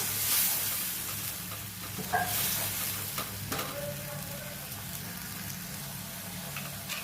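Katla fish curry sizzles in a hot pan while being stirred, a constant bright frying hiss with occasional soft scrapes of the spatula, close and steady throughout.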